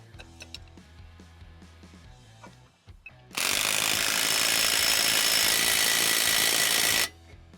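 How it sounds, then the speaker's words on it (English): A power impact tool on a Husky Center Line TS Plus hitch head tightens the nut in one loud, steady, high-pitched burst lasting a few seconds, after a quieter stretch of clinks and handling. "And tighten up the nut."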